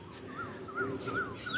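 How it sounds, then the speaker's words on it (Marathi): Birds call in the early morning before dawn in a village, a repeated rising-and-falling call sounding several times at a steady pace over a soft background hush. "पक्ष्यांचा आवाज"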